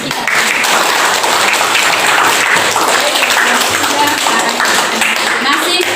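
A classroom of students claps together at the end of a chemistry lesson on redox reactions, giving loud, dense applause that stays steady for several seconds, with voices mixed into it.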